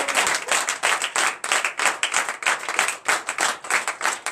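Church congregation at a Sunday service clapping in a steady rhythmic beat, many hands together, loud and close without pause.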